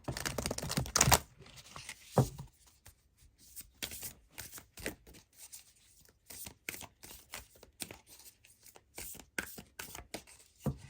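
Tarot spell cards are shuffled and drawn by hand in a quick rush at first, then settle into a long run of separate soft flicks, snaps and slides close by, quiet and with no talking.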